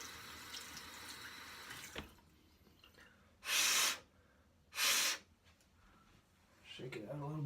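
A Feather safety razor is rinsed under a running tap at a sink. Two short, loud bursts of running water stand out against quiet room noise, with faint breathing and handling sounds between them.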